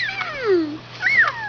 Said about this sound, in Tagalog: Ikaw, Jay, ano sabi ng pusa mo? Meow.